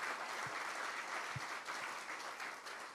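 A church congregation applauds in a steady, dense wash of clapping that continues throughout, heard at a moderate distance with no clear voices.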